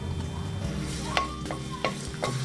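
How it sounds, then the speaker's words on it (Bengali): Chopped garlic sizzles gently in a little cooking oil in a pan while a spoon stirs it, giving a few distinct scraping knocks over a low steady fry, heard up close. "রসুনটা হালকা নেড়ে নেব।"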